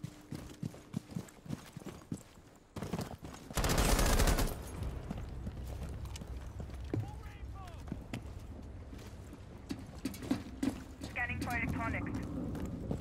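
SMG gunfire in Rainbow Six Siege rattles in short bursts alongside a dense blast and other game effects, with a player talking over it.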